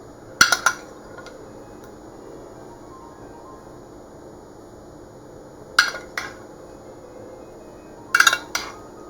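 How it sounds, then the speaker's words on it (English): A spoon scoops vegan salmon marinade in a bowl for an Asian bowl, giving three brief clinking scrapes near the start, middle and end against a quiet room background. "Going to scoop on some of the marinade here."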